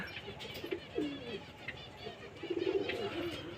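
Homing pigeons let out from a home loft on a sunny day after rain coo softly in low, rolling phrases, faint and somewhat distant, over quiet outdoor ambience.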